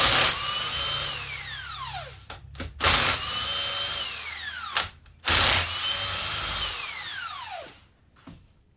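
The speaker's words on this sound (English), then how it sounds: "So we're going to grab a 14 millimeter impact socket. Get these out." An impact wrench with a 14 mm socket spins out the long cylinder head bolts on a Yamaha Big Bear 350 ATV, with three loud, close bursts of hammering whirr, each winding down in pitch, separated by brief pauses and clicks.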